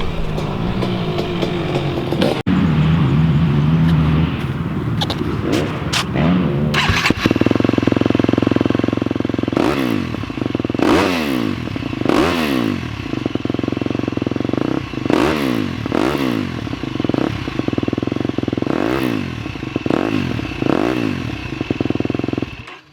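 A 2018 KTM 250 SX-F motorcycle with an FMF 4.1 exhaust starts up nearby with clattering, then idles and is revved again and again, each rev rising sharply and falling back over a loud, steady idle.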